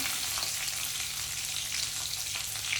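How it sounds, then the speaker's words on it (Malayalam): Chopped onion hisses in hot oil with curry leaves in a pan, a steady, close, continuous sizzle with no pauses and no voices. "കറിവേപ്പിലിട്ടിട്ടുണ്ട് ഇനി ഇതിലേക്ക് അരിഞ്ഞ് ഉള്ളി ചേർക്കാം"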